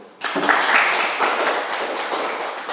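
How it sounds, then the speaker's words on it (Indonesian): A classroom of students breaks into applause, a dense, steady burst of hand clapping that starts abruptly and carries on loud and close for a few seconds. "kita beri tepuk tangan dulu"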